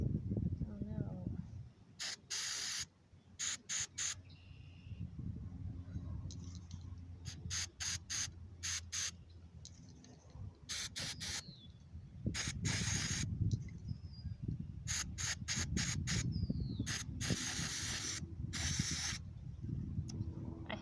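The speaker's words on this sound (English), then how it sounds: "We got our airflow cleaner." Airflow sensor cleaner sprays from an aerosol can in repeated short bursts of sharp hiss, some quick and clustered, others longer, close up over low rumbling background noise while working on a 2018 L5P Duramax.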